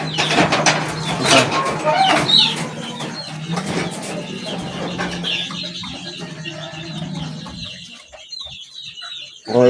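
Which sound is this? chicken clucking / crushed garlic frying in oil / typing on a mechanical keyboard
chicken clucking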